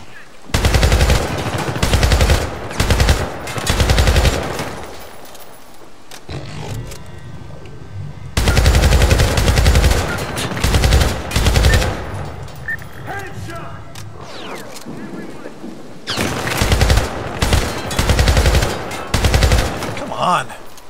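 Loud bursts of automatic gunfire and shotgun blasts in the shooter game Syndicate (2012) on PC come in heavy repeated volleys separated by short quieter gaps.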